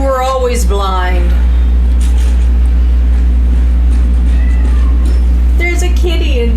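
A cat in the video game Cronos: The New Dawn meows a few times in plaintive, wavering cries at the start and again near the end, over a constant low droning hum.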